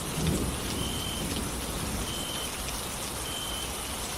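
Steady rain and gusty stormy wind on a thundery Kalbaishakhi night, a dense continuous wash of sound with no voices over it.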